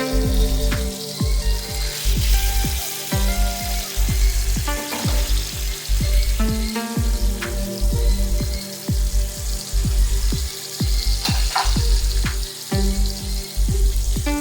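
Lamb piece frying with seasoning in a pan for a lamb burger, a loud steady sizzle with regular rhythmic pops and taps throughout, no talking.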